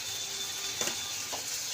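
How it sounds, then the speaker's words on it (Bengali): Spices and chillies frying in a pan for a mung dal with fish head, a soft steady sizzle with a couple of faint stirring scrapes, no voices. "এটাকে ভালো করে আমি কষে নেব।"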